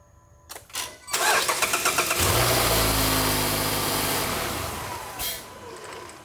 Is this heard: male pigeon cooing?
no